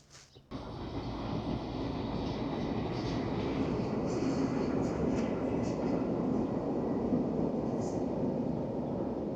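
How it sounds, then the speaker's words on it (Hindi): A train rolls past steadily near a large Taoist temple in Melbourne, a loud continuous rumble that sets in abruptly after a brief quiet start and holds at constant volume to the end. "और ये सामने ट्रेन जा रही है।"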